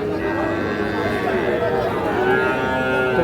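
Young Cross Friesian bull calves at a crowded cattle market, drawn-out moos rising over a dense, continuous murmur of people talking nearby.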